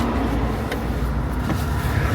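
Car interior while riding as a hitchhiker in Kazakhstan, a steady low road rumble and engine hum at moderate level with faint clicks, no voices.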